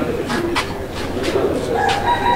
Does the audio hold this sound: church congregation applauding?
no